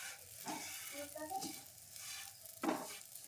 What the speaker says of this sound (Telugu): సేమియాని అయితే ముందుగా నెయ్యిలో ద్వారా వేయించుకోవాలండి